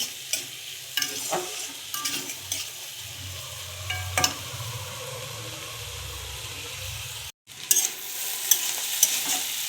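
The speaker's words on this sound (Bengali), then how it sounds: "গাজরটাকে আর মটরশুঁটিটাকে একটু ভেজে নেব ঘিয়ের সঙ্গে ভালো করে" Carrots and peas fry in ghee in a pan for fried rice, a steady loud sizzle with sharp spatula scrapes and stirring knocks, briefly cut off near the end before the sizzle resumes.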